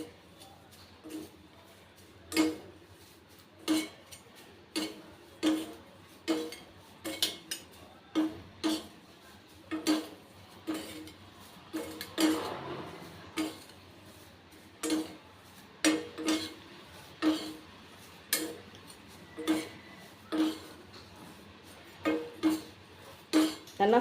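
Dry mudakkathan leaves roasting in a pan, with a spatula clinking and scraping against the metal in a steady rhythm about once a second, fairly close, with no talking.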